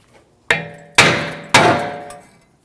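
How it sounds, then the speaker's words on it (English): A hammer strikes a stuck brake rotor on the rear hub of an Audi S4 4.2L V8 three times at an even pace, each blow a sharp metallic clang that rings briefly, close up with no talking. "If it's stuck on there, I'll take a hammer, just give it a tap."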